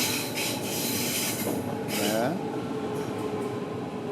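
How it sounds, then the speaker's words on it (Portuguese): A surface commuter train in Berlin rolls into a station with a steady rumble and a short rising squeal of wheels, fairly close, while someone talks over it. "tá chegando mais um, que na verdade aqui é trem"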